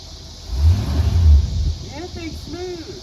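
An old muscle car engine, pulled from a museum after sitting unrun for about a decade, rumbles loudly and low in the first half, then fades under voices talking near the end.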